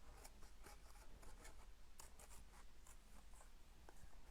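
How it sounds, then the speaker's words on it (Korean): Paper being cut with scissors during a children's black-rabbit craft project, heard as faint, close, repeated snips and light rustling with no voices. "지금 이렇게 가위로 오리고 있는 중입니다"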